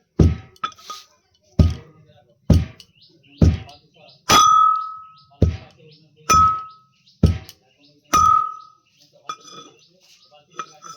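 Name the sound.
pounding spices in a mortar and pestle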